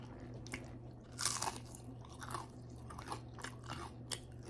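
Close, quiet crunching and chewing of crispy chicharon bulaklak, deep-fried pork, in irregular bites over a low background hum, no talking.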